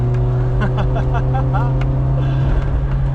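A Volkswagen Golf GTI Mk1 engine drones steadily from inside the car while driving, a loud low hum with rising and falling pitch, and a voice talks over it at times.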